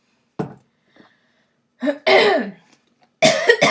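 A sharp cough and a quieter one are followed by two heavier, raspy coughing bursts, close and otherwise silent.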